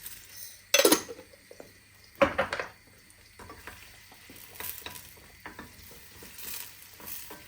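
Dry vermicelli sizzling and being stirred in a pot for pilaf, with scraping spoon clatter and a couple of sharp metallic clanks, close by.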